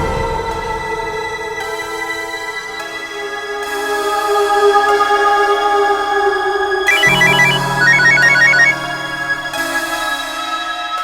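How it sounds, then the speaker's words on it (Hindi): A phone rings with a repeating electronic ringtone melody that swells and shifts over several seconds, loud and close, with no talking. "अरे कीर्ति, मेरे पापा का फोन है, मैं आता हूँ 2 मिनट"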